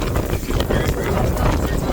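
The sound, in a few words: strong wind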